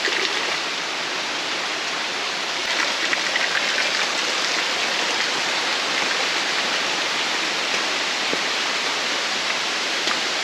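Mountain spring water running beside the Rudranath trek trail in Uttarakhand: a steady, close rushing and splashing stream, constant and loud throughout, with no voices.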